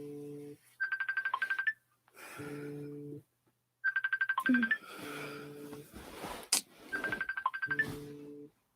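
A phone app rings indoors in repeated cycles of bright electronic ringtone bursts alternating with lower tones, clear and moderately loud with short pauses between.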